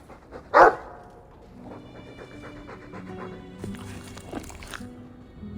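A Mabari war dog in Dragon Age II gives one loud, close bark followed by panting and snuffling, over a low hum of game music and ambience.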